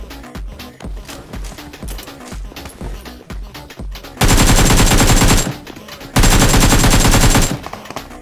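Gunfire in BGMI (PUBG Mobile): scattered quick single shots, then two long loud bursts of sustained automatic fire separated by a short pause.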